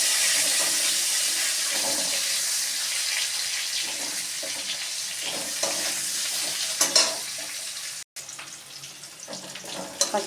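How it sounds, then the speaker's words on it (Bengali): Green plantain frying with potato sizzles and crackles steadily in hot oil, a dense hissing texture with occasional stirring clatters and a brief dropout near the end. "কাঁচকলাটা একটু ভেজে নেব আলুর সাথে।"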